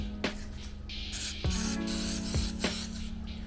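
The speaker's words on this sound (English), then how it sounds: "I'm gonna spray some starter fluid in these two only and watch." Starter fluid is sprayed into a Honda carburetor in several short hissing bursts, close and crisp, with faint mechanical clicks between them and no speech.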